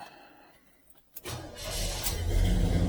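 A 1970 Chevelle Malibu engine cranks after a quiet pause, the starter catching at about one second, then a rising, rumbling churn that swells louder toward the end.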